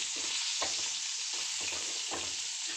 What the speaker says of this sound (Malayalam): ഒന്ന് ചെറുതായിട്ട് ഇളക്കി കൊടുക്കാം നമുക്ക്